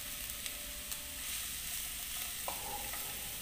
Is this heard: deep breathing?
no